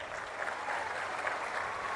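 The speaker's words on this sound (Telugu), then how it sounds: "గట్టిగా చప్పట్లు కూడా చెప్పండి" A large crowd at a Telugu Desam Party public meeting in Narasannapeta claps steadily and densely, a continuous wash of applause with no one talking over it.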